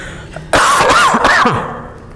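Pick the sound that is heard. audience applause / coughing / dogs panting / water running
coughing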